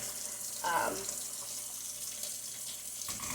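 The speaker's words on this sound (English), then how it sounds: "now rinse the fish off my hands" Tap water runs steadily from a kitchen faucet while fish residue is rinsed off hands during tuna salad preparation, a continuous close hiss with a brief louder splash near the start and no talking.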